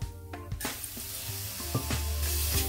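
Spice paste of ground coriander leaves, garlic and ginger frying with green peas in a pan, a steady close sizzle with soft stirring scrapes and occasional taps of the spoon.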